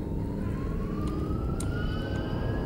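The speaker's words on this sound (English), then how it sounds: "Did you hear the police sirens?" Police sirens wail in the horror video game Dead Faces, a single rising tone heard at moderate distance over a low rumbling ambient background.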